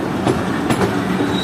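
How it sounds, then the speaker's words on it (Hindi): The Jaffer Express passenger train of Pakistan Railways rolling into Kolpur railway station, a loud continuous rumble of wheels on track with rhythmic clacking over rail joints, heard from on board. "हमारी ट्रेन पहुंच रही"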